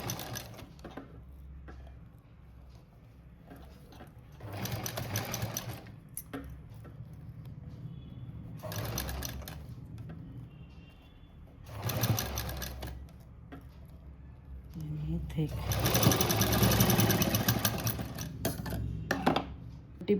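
A sewing machine stitching a patchwork piece cut from a saree border, running in four bursts of rapid mechanical chatter, each a second or two long, with quiet pauses between them and the longest, loudest run near the end.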